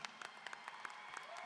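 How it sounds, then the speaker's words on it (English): Faint, scattered clapping from a graduation audience at Tennessee State University's fall ceremony, with individual claps picked out over a soft crowd wash for a brief moment. "Let's give him a round of applause also."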